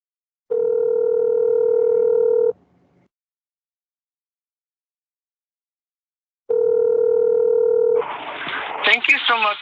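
A phone call rings out before reaching voicemail: two steady electronic ringback tones separated by a silent gap, then a recorded voicemail greeting begins speaking.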